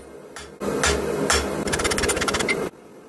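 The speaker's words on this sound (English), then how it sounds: "refining the shape slightly using a variety of different hammers, cross peen, ball peen, and a rounding hammer" Cross peen, ball peen and rounding hammers shaping a forged solid steel knife, several ringing metallic blows followed by a quick run of rapid strikes, close and loud with no talk.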